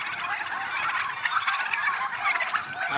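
Dutch chickens (Ayam Belanda) let out of their coop onto a farm in the morning, a continuous busy chorus of clucks and gobbling calls, fairly close and without talk.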